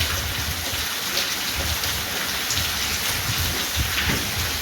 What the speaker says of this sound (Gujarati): તો આવો બંબો પડે ધોધમાર વરસાદ વધતો જાય છે